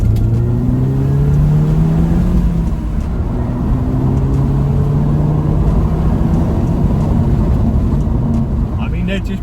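A Mk2 Audi TT accelerating down a country lane, heard from inside as a loud, steady engine drone with rising and falling pitch as it pulls through the revs over constant road rumble.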